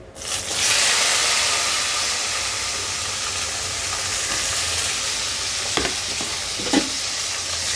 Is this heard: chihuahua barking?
no